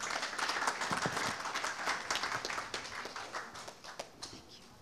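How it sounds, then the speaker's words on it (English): A convention audience gives a big round of applause for the association's president, many hands clapping loudly at first, then thinning into scattered, separate claps as it fades. "So please give her a big round of applause."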